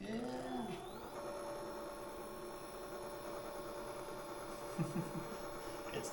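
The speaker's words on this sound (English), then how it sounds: "make sure that the motor works before he starts installing it on the bike" Electric bike conversion motor bench-tested before fitting to the bicycle, giving a steady electrical whine and hum with a rising tone at the start, running continuously under a low background drone.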